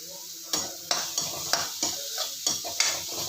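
Curry leaves fry in a pan while a spoon stirs them, a soft steady sizzle with regular metallic taps and scrapes roughly every third of a second, close by, no talking.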